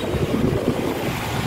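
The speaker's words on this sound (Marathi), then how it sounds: "किती हवा आहे, जबरदस्त हवा." Strong wind buffets the microphone outdoors, a loud, continuous rumbling roar with gusty fluctuations and no other sounds.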